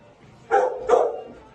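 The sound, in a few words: puppy barking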